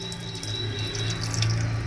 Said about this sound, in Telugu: ఇప్పుడు మనం సరిపడా నీళ్ళు అనేది యాడ్ చేసేసుకోవాలి